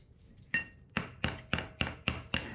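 Trim parts on a Chevrolet ZR2 Blazer are tapped into place with six sharp, evenly spaced knocks that ring briefly, close and distinct with no talk.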